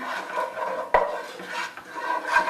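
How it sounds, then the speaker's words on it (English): A spoon stirs butter and pepper in a pot, scraping and clinking against the metal with one sharp knock near the middle, close and fairly loud, without talk. "And then we will stir it up."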